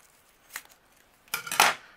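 Scissors cut through a strip of thick three-layer foam tape during a papercraft session, a faint snip followed by a louder, sharper crisp cut near the end, with no talking.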